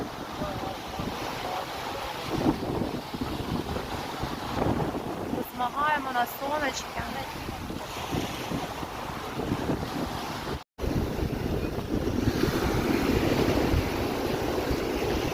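Wind blows hard at the seaside in Bulgaria, a constant buffeting rush over the microphone with surf beneath, and a person speaks briefly partway through.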